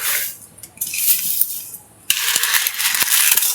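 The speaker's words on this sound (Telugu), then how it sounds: "నూనె హీట్ అయింది, తాలింపు దినుసులు వేసుకున్నాం" Mustard seeds and chana dal tempering dropped into hot oil in a pan for Andhra-style brinjal pickle, giving a bright crackling sizzle that fades, then bursts back louder with sharp pops after a short lull.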